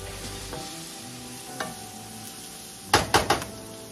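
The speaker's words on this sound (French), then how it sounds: "on fait bien revenir nos oignons" Onions and garlic frying in a pot, a steady sizzle with a few stirring scrapes and a burst of sharp utensil clatter near the end, no talk.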